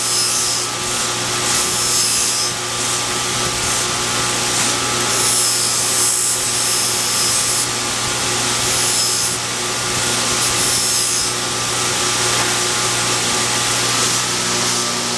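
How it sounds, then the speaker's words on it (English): A grease wheel loaded with black compound buffs the edge of a CPM-3V steel Gunny Sidekick knife in a knife shop, giving a steady, loud motor whir with continuous rubbing friction and a faint underlying hum throughout. "This is a grease wheel."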